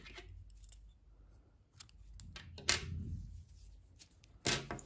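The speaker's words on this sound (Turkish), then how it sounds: "İpliği kesiyorum." Scissors snip yarn after a crocheted round, producing a few quiet, crisp cuts and rustles, with one sharper snip near the end; close and faint, with no talk.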